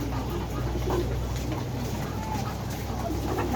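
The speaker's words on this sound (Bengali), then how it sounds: "আর এই যে এইখানে হচ্ছে কবুতর।" Racing pigeons cooing in a backyard coop beside ducks, a soft steady murmur of low coos over constant ambient noise, fairly close.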